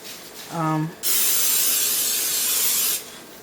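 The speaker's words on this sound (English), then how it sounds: "I am gonna add some of the olive oil spray" A brief voice is followed by a long, loud hiss from an olive oil cooking spray can, lasting about two seconds before cutting off.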